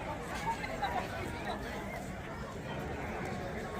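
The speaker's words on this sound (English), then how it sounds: "Look at this big crowd, look." A big protest crowd gathered in Sutton in Ashfield fills the air with a steady, dense murmur of many voices, continuous chatter and hubbub heard from within the throng.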